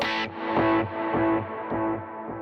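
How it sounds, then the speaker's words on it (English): Distorted electric guitar strums in a steady rhythmic pattern through a small reverb and delay, each chord trailing off with echoing delay and light reverb. "I actually jump to a small reverb, same delay, but that'll sound like this"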